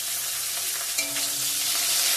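Panch phoron spices and chillies frying in hot oil, a steady close sizzle throughout with light stirring scrapes, no talk.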